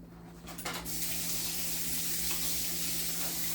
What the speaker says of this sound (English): get my stick blender and give this a good whirl